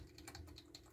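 Rapid clicking of keys on a computer keyboard, a quick run of faint, close taps lasting about a second.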